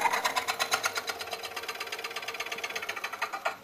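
A lathe turns a wooden bowl blank while a Woodcut Bowlsaver coring tool cuts around the arc, giving a fast, even, rhythmic chattering buzz that stays close and loud throughout.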